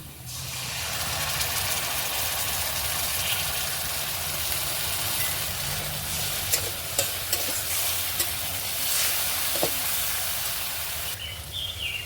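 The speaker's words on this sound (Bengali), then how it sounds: "এটা খুব বেশি ভাজবো না, এরকম হালকা করেই ভেজে নেবো।" Potato balls frying lightly in oil in a pan, a constant close sizzle and hiss with a few soft clicks of a spatula stirring and turning them.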